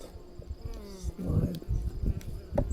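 Honey bees buzz faintly and close by during feeding, a thin wavering drone under bumps and handling noise over a few seconds.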